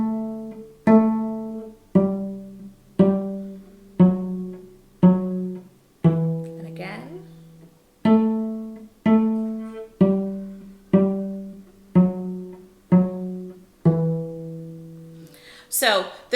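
Cello played alone and close, a slow sequence of about fourteen bowed or plucked notes stepping through the Twinkle Twinkle Little Star melody, each note decaying before the next.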